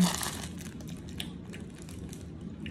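Quiet, repeated crunching and crinkling of dry chicken-flavor ramen noodles being bitten and chewed, close up, with no talking.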